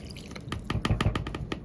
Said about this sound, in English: Grab our 1/3 cup, fill it with our beef broth.